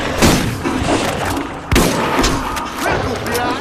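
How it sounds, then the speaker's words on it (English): Shotgun blasts in Borderlands, loud and close, a few heavy booms with chaotic combat noise between them, mixed with a voice talking. "But I like shotguns, so we're gonna use some shotguns."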